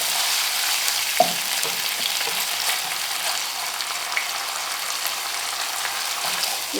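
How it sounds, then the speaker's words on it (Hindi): Three kinds of red chilli stir-frying in hot oil with paste for a chicken mutabbaq, a continuous close sizzle with a few light scrapes of a stirring spoon, no talking. "फिर ये 3 तरीके की लाल मिर्ची डालेंगे और इसे थोड़ा भूनेंगे चला के।"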